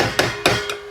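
A metal cooking pot struck three times in steady succession, each a sharp ringing clank with a lingering metallic hum between hits, close and alone.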